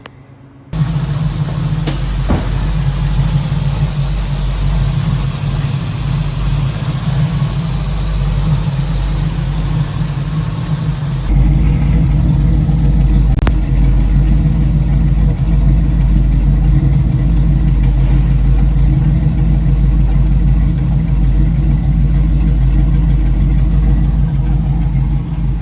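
1967 Chevrolet Camaro RS small-block V8 with a 4-speed manual idling close by, a steady deep rumble that rises slightly in pitch and loudness partway through.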